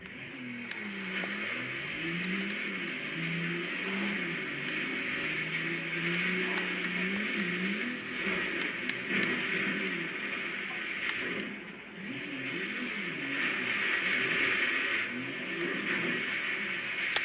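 In Forza Horizon 3, a car drives through snow on a small snow park track, its engine droning and revving up and down in waves over a steady rushing tire noise, fairly quiet and with no talk.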